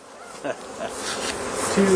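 Agitated honeybees buzz in a dense, fluctuating swarm drone during beekeeping, close and fairly loud.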